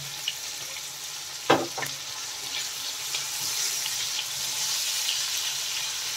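Prawns fry with tomato and salt in a pan, giving a steady hiss that builds after a brief clatter as ingredients go in. No voices are heard.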